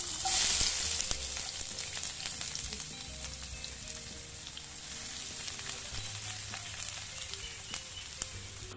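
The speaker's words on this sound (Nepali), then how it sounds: "अब यसलाई यो तेलमा लो टु मिडियम फ्लेममा फ्राई गर्ने।" Chopped ginger and garlic frying in mustard oil over a low to medium flame give a steady, dense sizzle that carries on without a break and sounds close and moderately loud, with no talking.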